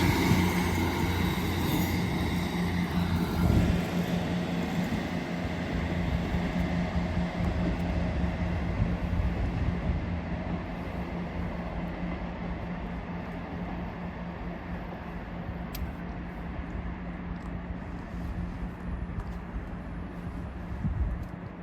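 A Class 158 diesel unit bound for Leeds rumbles through Wigan North Western station, a steady, fairly loud low engine drone and track noise that holds throughout and eases slightly toward the end.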